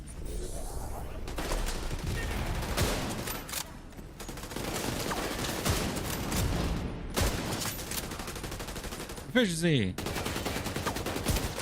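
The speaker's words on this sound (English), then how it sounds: "it's weird using a sniper rifle in Division" Sniper rifle fire in the video game The Division, heard as sharp repeated gunshot cracks over a dense, busy game soundscape, with a brief spoken word near the end.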